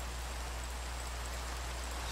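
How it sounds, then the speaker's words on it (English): Steady rain in a video game, a continuous even wash of falling-drop hiss with no gaps, fairly quiet and without talk. "Stop raining, please. Please stop raining."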